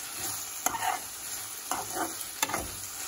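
Red chutney with Kashmiri red chili powder fries in a pan, a soft continuous sizzle with a few sharp stirring scrapes.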